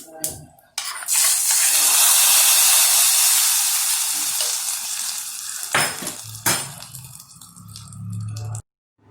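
Curry leaves hit a hot pan of kuzhambu with a loud, sudden sizzle that slowly tapers off, followed by a few sharp clanks of a utensil against the vessel. No one speaks.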